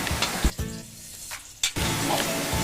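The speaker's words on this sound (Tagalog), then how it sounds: "Umpisahan po natin sa ating sliced garlic. I-saute lang po natin ito hanggang mag-golden brown lang po siya ng konti." Sliced garlic sautéing in a pan, a steady close sizzle broken by a few sharp clanks and scrapes of a spoon stirring against the metal.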